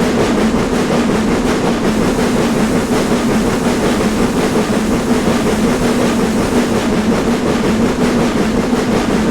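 Steam locomotive 75029 in Train Simulator Classic takes power on the North Yorkshire Moors Railway, a dense, steady rumble with faint rhythmic pulsing that stays loud and unbroken.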